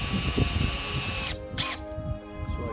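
A power drill drives screws into 2x4 lumber in two loud bursts, one long whine followed by a short one, with faint tool handling between them and no talk.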